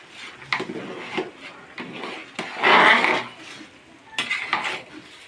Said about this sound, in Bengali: ভাত প্রায় হওয়ার মুখে, আমরা একটু নাড়িয়ে দেবো।